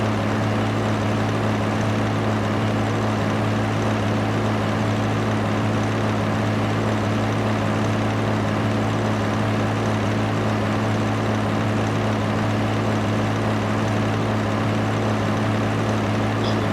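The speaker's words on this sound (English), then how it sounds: "This tractor's kind of loud." A tractor engine in the video game Farming Simulator 15 drones steadily and loudly throughout, a constant low rumble with no change in pitch and no voices.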